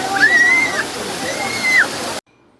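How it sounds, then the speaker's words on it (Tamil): Water pours steadily down Yercaud falls in a continuous broadband rush, with two brief rising-and-falling voice-like tones over it before the sound cuts off abruptly. "அந்த நேரத்தில் இந்த ஃபால்ஸில் வந்து தண்ணி நல்லா வந்துட்டு இருந்தது"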